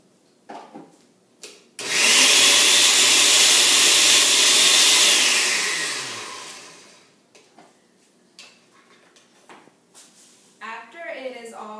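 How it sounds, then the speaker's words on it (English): A kitchen blender whirs loudly as it purées chopped peeled fruit, a steady roar lasting about four seconds before winding down, with a few light clicks and knocks before and after. "It can then be chopped and put into the blender."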